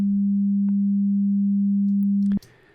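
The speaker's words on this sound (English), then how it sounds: "We're only actually processing a sine wave there." A steady pure sine test tone holds at one low pitch, loud and unwavering for over two seconds, then stops abruptly, leaving a brief burst of faint room noise.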